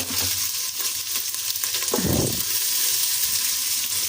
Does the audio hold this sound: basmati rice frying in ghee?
yes